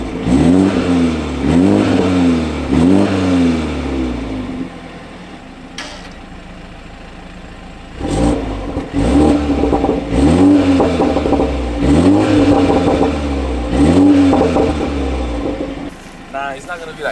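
A stock-exhaust BMW 330 G20 is revved repeatedly in short rising bursts, with a quiet pause midway before another series of sharp revs. It is loud and close, and people talk over it at times.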